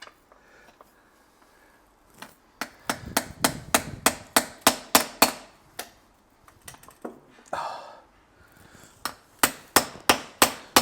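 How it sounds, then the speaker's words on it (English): Hammer blows on a chisel to loosen a tight part during interior work on an Audi coupe, sounding as a long run of sharp, loud metallic taps in irregular bursts, with quieter scraping between them. "It may require a tapping with a chisel to start it."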